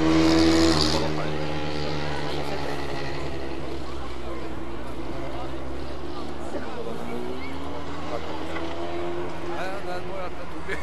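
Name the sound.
rallycross car accelerating at Bilcross Koppang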